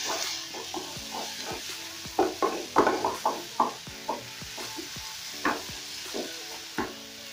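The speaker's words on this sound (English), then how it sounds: "I'm going to toast them for about a minute or so till they start becoming fragrant" Dried rosemary and spices toast in a hot pan with a steady soft sizzle, broken by a run of sharp stirring scrapes and taps from a utensil, close and clear with no talking.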